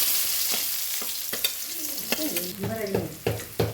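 Cumin, onion and garlic sizzle in hot oil with mustard seeds for a tempering, with a crackling fry and repeated sharp stirring clicks up close and no talking.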